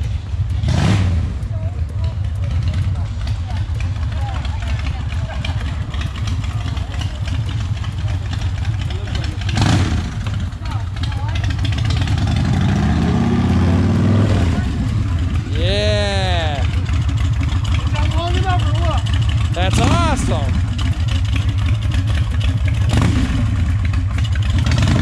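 A Honda Fury motorcycle's engine idles with a steady low rumble and throbs through a few brief revs, loud and close at an outdoor group ride, with people talking over it.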